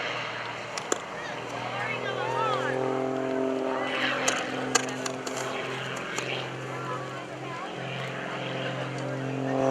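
A propeller aerobatic airplane drones overhead at an airshow at Greenwood Lake, its engine pitch climbing and sliding as it maneuvers, spinning vertically, with voices now and then over the steady roar.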